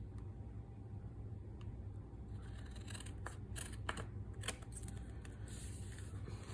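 Scissors trimming paper for a mini journal: a run of quick, crisp snips clustered in the second half, close but quiet over a steady low room hum, no talking.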